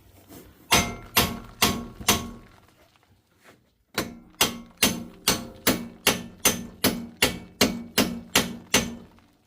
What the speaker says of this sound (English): Anyway, so I grabbed a hammer. I'm going to see if we can get this out.